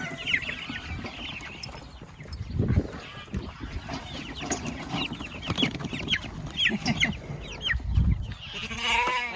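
Meat chickens being moved into a pen on a small farm cluck and squawk continuously, with several overlapping calls, a few louder squawks standing out near the middle, and no voices.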